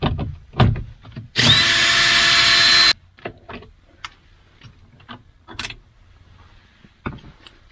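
A power drill whirs loudly and steadily for about a second and a half while backing screws out of a car's driver door panel during an anti-theft installation, followed by scattered clicks and knocks of handling.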